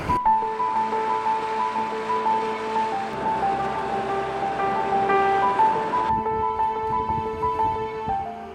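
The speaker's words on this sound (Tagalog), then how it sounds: "Medyo malalakas yung alon, kaya talagang nagdadahan-dahan lang tayo." Steady rushing water and strong sea wave noise during a boat crossing fills the clip alongside a sustained boat engine drone with tonal hum, with a change in texture partway through.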